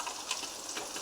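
Food fries briefly in hot oil, a faint, soft crackle and hiss lasting only a moment.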